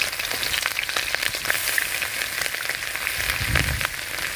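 Ground onion paste drops into hot oil and fries with a steady, crackling sizzle that keeps a dense, even hiss throughout, with occasional stirring sounds and no voices.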